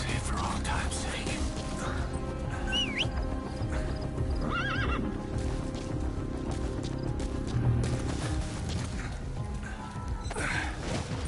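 A horse in Metal Gear Solid V: The Phantom Pain whinnies and neighs while its hooves clip-clop steadily, layered over a dense in-game ambience of wildlife and background noise.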